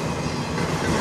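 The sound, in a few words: CN intermodal freight train passing in a blizzard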